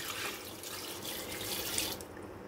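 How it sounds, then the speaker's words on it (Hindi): About two cups of water poured into a pot of mutton with tomatoes for namkeen gosht, a continuous close splashing rush that stays steady and fairly loud throughout. "टमाटर डालने के बाद 2 कप के करीब मैं इसमें डाल दूंगी पानी।"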